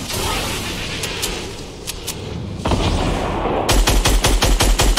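Gunfire rings out in a squad match of a shooting video game, first scattered distant pops over a noisy bed, then a close, loud burst of rapid machine-gun shots at the end.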